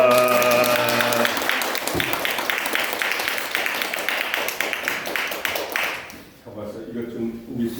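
An audience at a civic lecture on democracy in Korea applauds warmly to welcome the lecturer, with dense, sustained clapping that fades out after about six seconds before a voice and room sounds follow.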